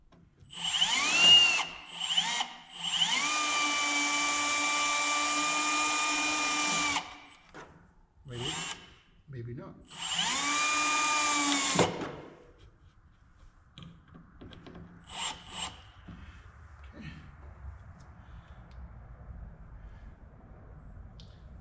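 Power drill driving tile backer board screws into drywall, several close whirring bursts of a few seconds each with short stops between, then quieter handling noises afterward.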